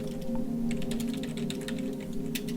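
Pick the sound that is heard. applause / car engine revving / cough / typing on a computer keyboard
typing on a computer keyboard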